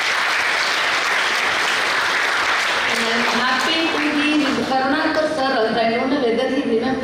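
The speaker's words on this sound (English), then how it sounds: "They deserve a good applause on behalf of them." An audience claps at an artificial intelligence conference in a computer science department, with dense, sustained applause filling the room. A speaker talks over the clapping through the second half.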